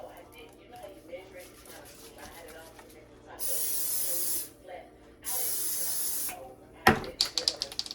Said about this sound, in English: I'm gonna go ahead and spray down my waffle iron.